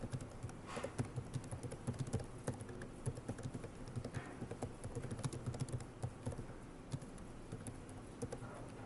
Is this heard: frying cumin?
no